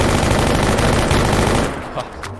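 Very rapid automatic gunfire in S.T.A.L.K.E.R. GAMMA, a loud unbroken stream of shots that cuts off abruptly near the end, followed by a few faint scattered sounds.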